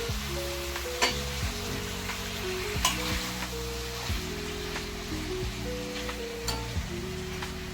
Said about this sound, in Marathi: तर मसाला एकत्र करून घेणार आहे.